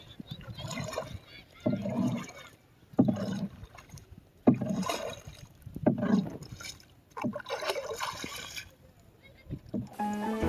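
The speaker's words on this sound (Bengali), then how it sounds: "নিজে চালিয়ে নৌকা ভ্রমণ যে এতটা এক্সাইটিং হতে পারে তা আগে আমি কল্পনাতেও ভাবিনি" A rowboat is rowed by hand across monsoon floodwater in a rural village, with rhythmic paddle strokes and splashes recurring roughly every second and a half, close and moderately loud.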